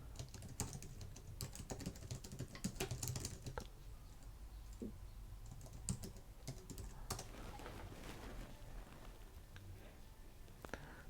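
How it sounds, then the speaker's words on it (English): Fingers type on a computer keyboard in quiet bursts of rapid, light key clicks with brief pauses, close to the microphone against a soft background hum. "So I'm just going to type this."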